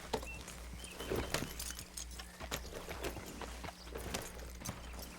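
Horse hooves clip-clop at a steady walking rhythm in Red Dead Redemption II, quiet and close, with faint jangling tack over a low ambient bed.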